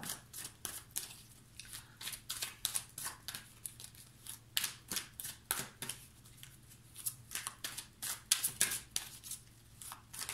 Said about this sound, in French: Là, je vais vous sortir 2 cartes.